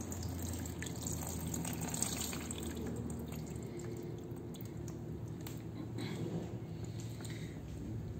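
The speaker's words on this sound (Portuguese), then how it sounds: "agora a gente vai coar a água do papel" Water drains from paper-machê pulp through fabric set on a sieve, a faint, steady trickle and splash close by that continues throughout, with no voices.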